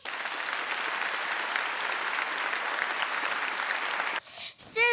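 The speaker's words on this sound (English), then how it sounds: "S'il vous plaît, applaudissez-nous très fort." Audience applause at a Korean children's dance performance, a dense, steady wash of clapping for about four seconds that cuts off abruptly, followed by a short burst of another sound.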